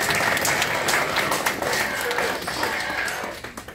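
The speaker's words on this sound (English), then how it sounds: "big round of applause for the Daleks" A crowd at a question-and-answer session with Daleks at the Bovington Tank Museum breaks into dense, steady applause, loud and close, fading out near the end.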